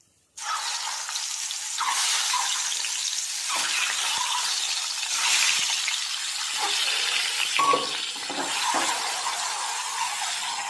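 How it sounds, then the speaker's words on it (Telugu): Eggs fry in hot curry oil with turmeric, giving a loud, steady hiss and crackle that starts abruptly and continues throughout, with occasional stirring clinks. "కర్రీ ఆయిల్ వేడైంది కొంచెం పసుపు వేసి గుడ్లే వేసుకుందాం"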